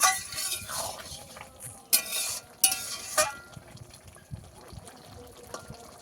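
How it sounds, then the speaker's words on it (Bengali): Spices and coriander powder sauté with boiled potatoes for ghugni, a frying hiss broken by several sharp spoon scrapes and clacks against the pan, close and uneven. "আবারও আমি সব কিছু একসঙ্গে কষাবো"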